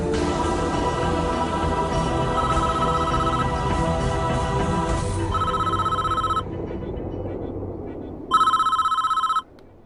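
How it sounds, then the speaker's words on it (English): A telephone rings in the Prison Architect video game, sounding as repeated bright electronic ring bursts over steady background music, with a louder final ring near the end. "I suppose we better answer the phone call."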